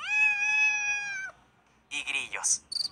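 A long, clear electronic cat meow from a prank USB device, then a gap and a few shorter chirpy bursts of sound.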